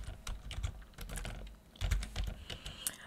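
Fast typing on a computer keyboard, a steady run of close, crisp key clicks with small pauses and no voices over it.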